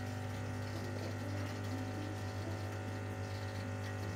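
A Lelit Mara X espresso machine's pump runs with its flow control eased open, giving a steady, close mechanical hum with a constant low drone and no speech.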